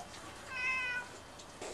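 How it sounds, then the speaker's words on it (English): A cat named Teddy meows once, a short, fairly faint call under a steady background hiss in a workshop, with no talk. "And as usual, I got a helper kitty."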